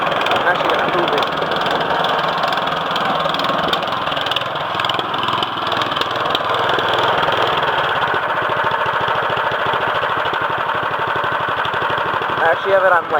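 An MTD 179cc small engine idles at its lowest setting, a steady, loud, continuous mechanical drone with a slightly rough, rapid firing rhythm that runs for the whole clip.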